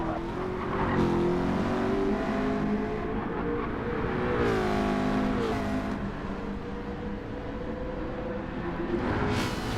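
Race cars in Gran Turismo 7, a Ford versus Ferrari one-hour endurance race, scream past on the pit straight one after another, engines rising and falling in pitch as each car approaches and passes close by, with sharp high whines.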